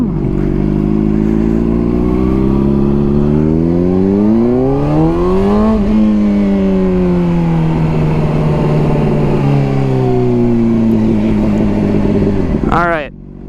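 A warmed-up motorcycle engine revs while riding, its pitch climbing and falling through the gears in a loud, close drone, then rising sharply in a final high rev before cutting off.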